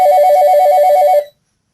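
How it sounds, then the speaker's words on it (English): An incoming phone call rings as a steady electronic ringtone, loud and close, with a warbling tone that pulses evenly for just over a second before cutting off abruptly into silence. "We've got a phone call coming in now"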